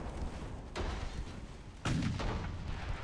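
Warship guns firing in the naval battle game Ultimate Admiral Dreadnoughts, two heavy booming salvos about a second apart over a constant rumbling battle backdrop, loud and near.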